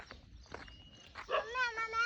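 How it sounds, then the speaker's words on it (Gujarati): A tied-up dog gives a short bark that turns into a whining cry near the end of the clip, heard at close range after some soft shuffling and faint voices. "બાંધેલું છે કૂતરું"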